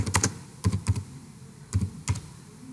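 Keystrokes on a computer keyboard come in two quick bursts of several clicks each with a pause between, close and clear over a quiet background, no voices.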